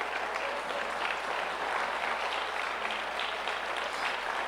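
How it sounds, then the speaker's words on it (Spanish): A church congregation applauds together in steady, dense clapping that holds at an even level throughout, with no distinct voices rising above it. "¿Por qué no le damos un aplauso al Señor en esta mañana?"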